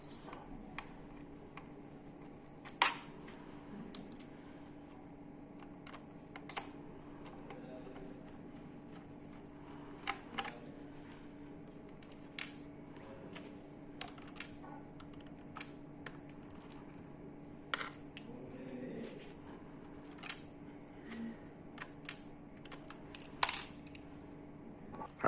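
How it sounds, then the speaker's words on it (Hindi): Small screws being tightened on an HP laptop during a repair, heard as scattered faint metallic clicks and ticks over a steady low hum, with no talking. "सारे स्क्रू इसके भी टाइट कर देते हैं।"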